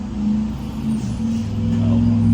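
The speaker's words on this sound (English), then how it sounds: "CSX truck's pulling up beside me to get diesel" Diesel CSX work truck idling and pulling up close alongside at a fuel station, a loud low engine rumble that swells slightly as it draws near.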